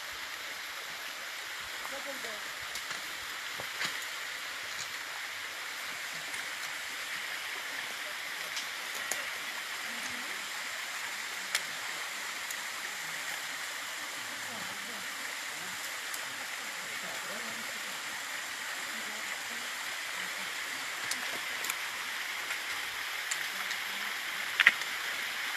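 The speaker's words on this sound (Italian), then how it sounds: "Ecco qui che il corso d'acqua fa una piccola pozza" A stream flows into a small pool along a downhill walking route on the Sila plateau, a faint, even rushing wash that runs steadily throughout, with a few soft clicks.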